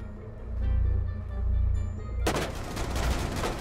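Rapid gunfire erupts in Rainbow Six Siege, a dense burst of close, loud shots starting abruptly after a low rumbling lead-in and continuing as a fast volley.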